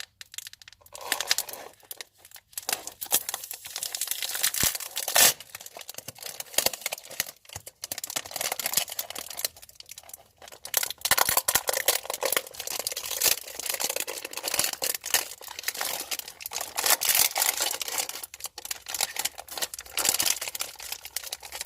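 A resealable plastic package of Twizzlers rainbow candy straws being opened, with continuous crinkling and tearing of the wrapper up close, fairly loud and dense throughout, no talking.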